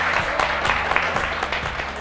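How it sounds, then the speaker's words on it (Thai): Applause for a student guest on a Thai hospital-school teen talk show, clapping that blends with a low tonal music bed underneath, moderately loud and continuous through the short stretch. "ขอเสียงปรบมือให้กับน้องเน"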